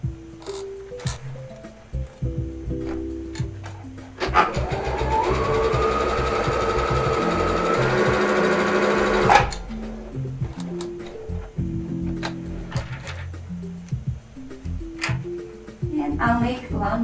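A sewing machine with a new presser foot runs a stitch in one continuous whirring buzz lasting about five seconds. Soft handling clicks and a speaking voice come before and after it.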